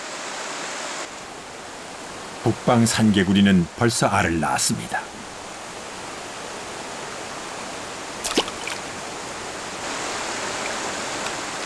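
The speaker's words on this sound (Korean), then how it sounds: "2월 말, 여울 물소리가 생명을 깨웁니다." Rapids on the Geum River in late February give a steady, broadband rush of flowing water throughout. A narrator's voice speaks briefly over the rushing water.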